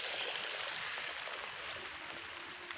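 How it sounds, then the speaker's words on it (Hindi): Rainwater running through a village drain into a field after rain gives a steady, close, even rush of flowing water that holds at one level with no voices. "इस नाली से पानी आ रहा है।"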